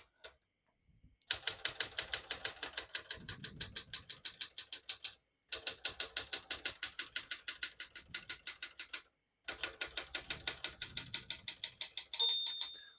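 Rapid key strikes clack on a 1972 Smith-Corona Sterling portable typewriter in three close, steady runs, with brief pauses between them and a faint bell near the end.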